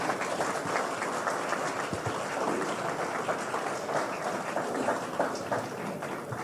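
Steady, sustained applause from an audience greeting India's Home Minister Amit Shah onto the NDTV India stage; dense clapping holds at an even level throughout, with no one speaking over it.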